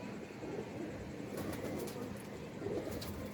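Pigeons kept by a pigeon fancier coo softly and continuously under a steady outdoor background hum, the low murmuring calls rising and falling across the whole stretch.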